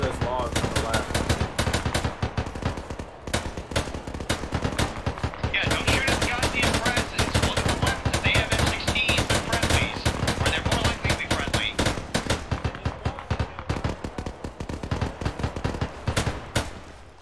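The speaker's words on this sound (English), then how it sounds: "Are you shooting at Zeus or Preston?" Rapid automatic gunfire from a video game shootout rattles almost without pause in loud, dense bursts of shots, with voices talking over the firing.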